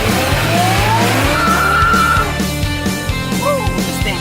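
A supercharged Corvette accelerates hard at a cruising event, its engine roaring close by. A long, high tire squeal runs over the roar before the revs drop and fluctuate.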